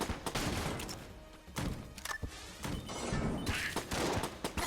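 A grenade detonates in the roguelike shooter Enter the Gungeon, amid a chaotic run of loud game blasts, thuds and crashing impacts that repeat through the room.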